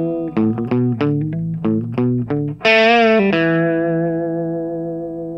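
Electric guitar plays the next line of a song, a run of quick distorted notes ending on a long bent, ringing note that fades, with no talk.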